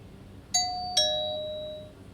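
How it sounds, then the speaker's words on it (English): A two-tone electronic doorbell chimes once, ding then dong, with the second note ringing out and fading over a quiet background. "That was my doorbell."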